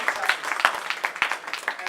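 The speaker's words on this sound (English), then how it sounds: "You can applaud here." Scattered audience applause for an elected official at a community gathering, distinct individual claps popping irregularly while a voice speaks over them.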